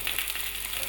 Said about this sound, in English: Let that steak cook.